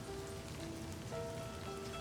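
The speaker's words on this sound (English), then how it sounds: "Just like this moment, right now, waiting in the rain." Steady rain falls and patters in the video game Livber, a dense, even hiss that runs alone and unbroken for about two seconds, with a faint tonal hum beneath it.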